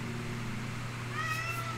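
A house cat wanting to go upstairs lets out one short, faint meow near the end, over a steady low indoor hum.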